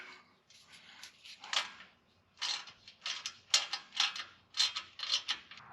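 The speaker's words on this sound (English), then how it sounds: "We're going to start by pulling this ABS bolt out. It's an 8mm." A socket wrench ratchets out an 8mm ABS bolt on a 2019 Ford F-150, with bursts of quick clicking strokes separated by pauses, close and fairly quiet with no talking.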